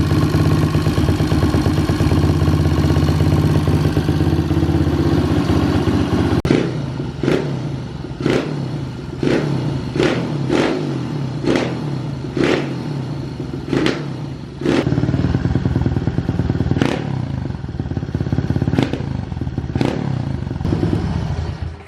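A pit bike engine, just kicked into life and sounding rough, runs loudly nearby with a steady rattling idle, then breaks into a series of sharp throttle blips and pops.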